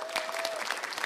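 A crowd at a Democratic Party concert event for recruited candidates claps in a brief burst of scattered, moderately quiet applause.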